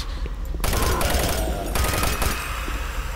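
Shotgun fire in the video game Doom 3, loud close blasts in quick succession with a brief quiet moment before the first shot and a noisy tail, no voices.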